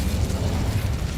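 Incendio fire spell in Hogwarts Legacy, cast in a decaying catacomb: a steady roaring, rumbling whoosh of flame, loud and close for just over a second, with no talking over it.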